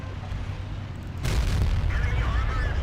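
An artillery shell strikes a tank in World of Tanks, a sudden loud broadband boom about midway through that gives way to a sustained roaring rumble, following a quieter stretch of low engine drone.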